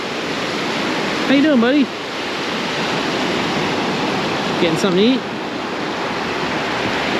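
Steady ocean surf washes onto a Panama City Beach shoreline in Florida, a constant close hiss and roll of breaking waves, with someone speaking briefly twice over the surf.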